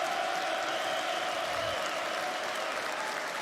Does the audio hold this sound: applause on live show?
yes